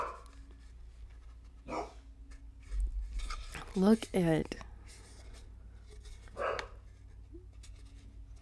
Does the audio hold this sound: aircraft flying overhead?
no